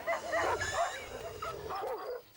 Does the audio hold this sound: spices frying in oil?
no